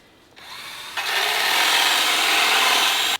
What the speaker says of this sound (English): So now I'm going to drill a hole through this